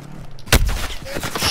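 A single loud, sharp sniper rifle shot cracks out in Warzone, a thudding report with a trailing echo, followed by lower rumbling game ambience.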